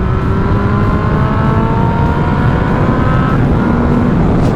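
A 1998 motorcycle with a 998cc five-valve inline four-cylinder engine revs hard and steadily, its rising harmonic whine loud and close throughout, without any talk.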